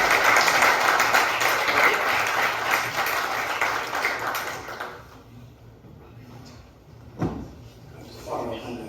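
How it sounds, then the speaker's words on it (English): An audience applauds to welcome a guest onto the stage at a business learning event, a dense burst of clapping that fades away after about five seconds, followed by quieter room noise and a faint thud. "Big round of applause."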